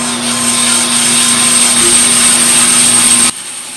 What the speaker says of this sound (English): I'm going to cut within an eighth of an inch of the line that I've drawn with a bandsaw just to speed things up.